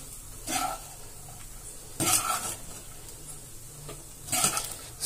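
Egg fried rice being stirred in a pan, with a soft steady sizzle and scraping bursts of the spatula against the metal at intervals, close and moderately loud with no talking.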